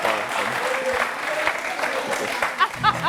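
Studio audience applauding during a comedy show, a busy patter of clapping mixed with scattered laughter and chatter, with a few sharp louder claps near the end.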